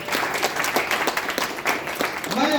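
A seminar audience at a business marketing plan talk applauds loudly and steadily for a few seconds, a dense crowd clatter that fills the room, with a voice rising near the end.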